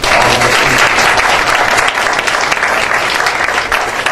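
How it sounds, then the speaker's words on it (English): Sustained audience applause for students at a college diversity presentation, a dense, steady wash of many hands clapping loudly throughout with no break. "a round of applause for all of our students"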